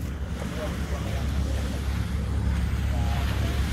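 Sea waves wash ashore at Ajman Beach in the UAE at night, a steady close surf rush mixed with wind buffeting the microphone, with faint voices in the background.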